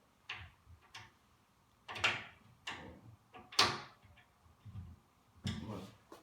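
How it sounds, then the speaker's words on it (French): A display cabinet door slid slightly and its hinge tightened, giving a string of close clicks, knocks and brief scrapes spaced irregularly over a few seconds in a quiet room. "On fait glisser un peu la porte et on resserre."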